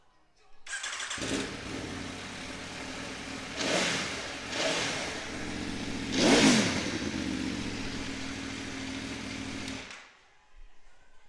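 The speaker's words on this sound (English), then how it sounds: "They always sound absolutely fantastic, these V4 engines." An Aprilia Tuono V4 1100 Factory motorcycle engine (2016) starts up nearby and idles with a throaty rumble, revved sharply three times before shutting off.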